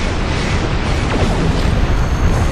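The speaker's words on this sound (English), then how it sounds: "let's move out of the way of the explosion" An explosion near a starship in the space game Star Trek Online: a loud, dense blast rumble with crackling debris and a brief descending whoosh, held at full strength throughout.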